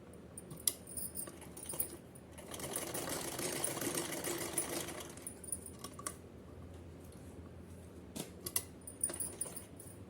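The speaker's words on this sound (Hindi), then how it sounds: "हमने ये उल्टा करके पकड़ लिया है और हमें 2 साइड सिलाई लगानी है" Sewing machine stitching two side seams of a small yellow doll-dress bodice, one steady mechanical run of several seconds in the middle with handling clicks and rattles on either side, close and moderately loud.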